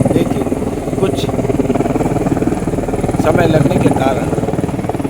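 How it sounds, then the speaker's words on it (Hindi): A helicopter flies over a gathering of temple crowds for a flower shower, its steady rotor drone continuous throughout while someone speaks over it. "जहां उन्होंने हेलीकॉप्टर की व्यवस्था की"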